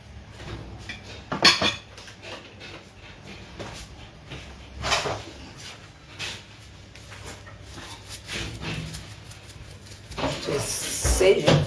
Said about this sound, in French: Mets-moi la casserole au feu.